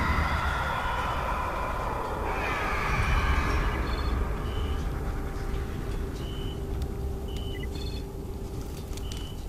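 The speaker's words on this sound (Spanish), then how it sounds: "Estaba esperando esto, que se oscureciera, para que tocara la alarma." In the zombie game Dying Light, a night alarm sounds as darkness falls: a steady droning siren tone over dense rumbling ambience, with scattered high electronic chirps and beeps toward the end, continuous and fairly loud.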